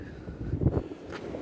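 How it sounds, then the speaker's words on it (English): Gusty wind buffeting the microphone, a low rumbling roar that swells briefly in the middle, with no voices. "It's windy, eh?"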